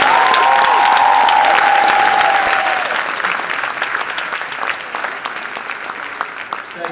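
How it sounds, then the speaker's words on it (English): A lecture-hall audience at Oakland University applauds Hall of Famer Lisa Leslie, a loud burst of many hands clapping that starts at full strength and then slowly thins and fades over several seconds, with a brief whistle near the start. "another round of applause for Hall of Famer Lisa"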